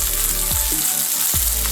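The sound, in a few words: meat frying in oil with rosemary and garlic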